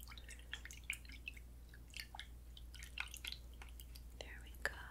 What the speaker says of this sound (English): I'm just gonna wash that pigment off my fingers here in this water.